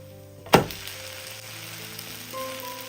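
A breakfast flatbread lands in a pan as it is flipped, making a sharp thump, and then frying goes on as a soft, steady sizzle under a faint background hum.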